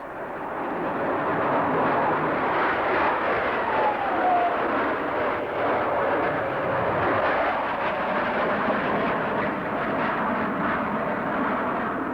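A jet aircraft at an air show passes with a steady, loud, broad roar and a faint rising whine partway through. The sound is sustained throughout and no voices are heard.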